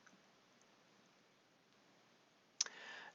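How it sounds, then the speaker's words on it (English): A single sharp computer mouse click on a hyperlink, close and crisp, near the end after near silence with faint background hiss. "Click on the hyperlink"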